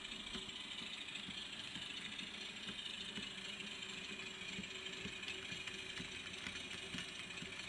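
An 830 class model railway locomotive pulling a goods train on a home layout gives a steady, faint, continuous motor hum with a light rumble, without talk.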